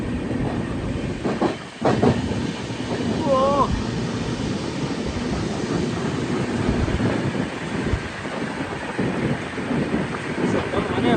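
A goods train hauled by two locomotives at the front with banker engines behind passes steadily on a rainy, misty ghat section, wagons rumbling and clacking under wind noise, with a brief exclamation from a person nearby.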